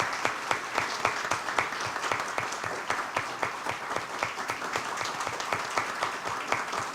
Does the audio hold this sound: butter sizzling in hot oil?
no